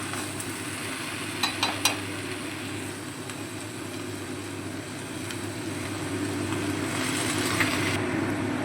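Mixed leafy greens for a five-green fry stirring and sizzling in a hot pan, a steady frying hiss under a low hum, with a few sharp clinks of the utensil early on and the sizzle swelling toward the end.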